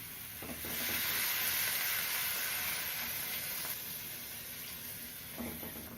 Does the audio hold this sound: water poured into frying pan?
yes